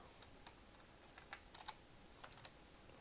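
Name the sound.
typing on a computer keyboard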